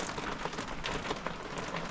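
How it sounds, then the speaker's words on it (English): Hail pelts the outside of a parked car during a storm, a dense, steady patter of many small impacts with occasional sharper hits, close and continuous with no voices. "All this hail."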